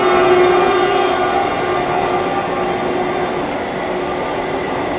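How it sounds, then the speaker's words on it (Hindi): Jharkhand Sampark Kranti express passing on the opposite track, a loud steady roar and rumble of wheels and carriages rushing by close, continuous throughout with a faint tonal hum. "और अपोजिट साइड से झारखंड संपर्क क्रांति भी आ रही है"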